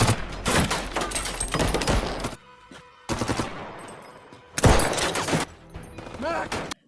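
A film shootout during a bank robbery: dense, loud bursts of automatic gunfire crackle in rapid volleys, drop to near quiet for a moment, then erupt again with heavy thumping shots.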